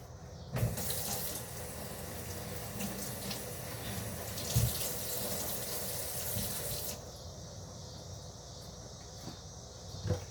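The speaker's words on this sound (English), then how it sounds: "Okay, I will just quickly wash it." Cauliflower being rinsed under a running kitchen tap, a steady broadband rush of water splashing into a sink for about seven seconds, then the flow stops and quieter handling sounds remain.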